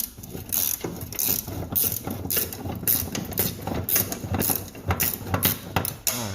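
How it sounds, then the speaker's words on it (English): A ratchet wrench works a 19 mm bolt on a Toyota Sienna rear differential torque arm, giving rapid, uneven clicking and grinding bursts, close and fairly loud, with no talking. "So now I need the wrench for it."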